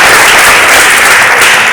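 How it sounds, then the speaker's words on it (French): Loud, dense applause fills a church service, a steady wash of many hands clapping together throughout, close and uninterrupted. "Est-ce qu'on peut applaudir pour"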